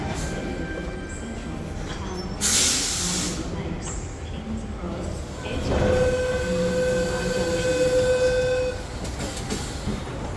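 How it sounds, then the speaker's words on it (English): Double-decker train carriage rumble on the T4 line with hissing bursts and a long horn-like tone, steady and close, with faint voices in the background. "come on Lynn, let's get on the train"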